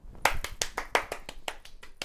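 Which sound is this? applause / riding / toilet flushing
applause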